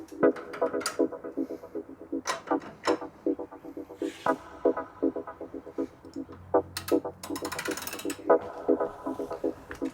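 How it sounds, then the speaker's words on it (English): A ratchet with a 24mm socket clicks in quick, rhythmic runs as it works the rear wheel axle of a Yamaha R3 motorcycle, close and clear, with a brief metallic clatter near the end and no speech. "I'm simply using a 24mm socket with a ratchet and a 19mm wrench."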